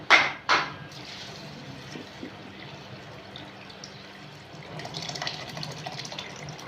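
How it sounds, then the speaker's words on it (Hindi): Water runs into a glass while peach soda is prepared in a kitchen, starting after two sharp clinks of glassware and building to a steady, moderate trickle near the end. "और साथ में पानी।"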